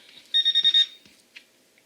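A Garrett AT Pro pinpointer metal detector gives a short burst of rapid high electronic beeps, then a couple of faint brief chirps, close and quiet with no talking.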